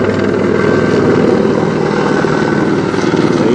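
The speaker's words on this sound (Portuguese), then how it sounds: "Passando aqui o helicóptero," A helicopter passes overhead outdoors, a loud steady rotor thrum and engine roar filling the whole stretch without a break.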